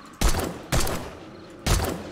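Gunfire rings out in the zombie survival game 7 Days to Die, three loud separate shots spaced unevenly, each with a short ringing tail.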